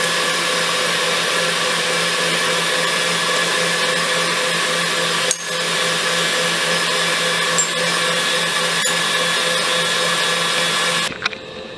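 An electric mixer whirs loudly and steadily as it beats meringue while sugar is added, a constant high motor drone with a brief dip midway before cutting out near the end.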